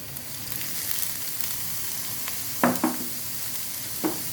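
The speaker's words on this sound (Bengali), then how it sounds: "পেঁয়াজ ভাজা হয়ে এসেছে এখন দিয়ে দিচ্ছি মিহি করে কুচি করে রাখা" Onions frying in a pan as finely chopped ingredients go in: a steady close sizzle throughout, with a few sharp stirring scrapes near the end.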